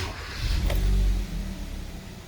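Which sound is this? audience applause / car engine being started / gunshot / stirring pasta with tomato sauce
car engine being started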